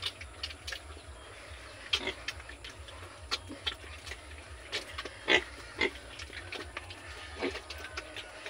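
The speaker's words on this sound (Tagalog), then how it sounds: "gusto ko lang ipakita yung mga pinapakain kong baboy" Pigs on a farm grunting and oinking at feeding time, short scattered grunts coming in irregular bursts over a steady low background, fairly faint and with no talking.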